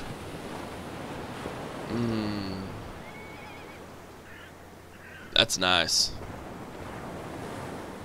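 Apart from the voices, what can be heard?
ocean waves at the seaside, video game Medieval Kingdoms 1212 AD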